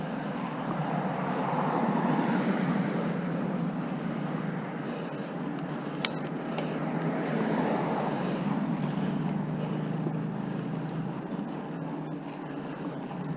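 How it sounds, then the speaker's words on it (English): Traffic swells and fades in a steady wash of road noise, cars going past at a distance with wind in the background. "You just hear the cars going past."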